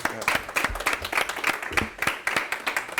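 A small audience at a live business networking event claps in sharp, closely spaced hand claps, fairly quiet and a little distant, with no talk over it.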